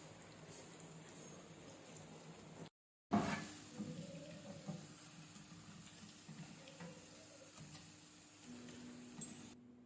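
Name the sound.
potato lachha pakoras frying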